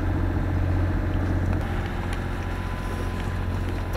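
A sailboat motors under engine power on the return passage from Île de Ré, giving a steady low engine drone with wind and water noise throughout, loud and close, with no talking.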